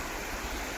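A river near a bridge on a Glenorchy-area walk, heard as steady broadband rushing water, moderately quiet and continuous with no voices over it.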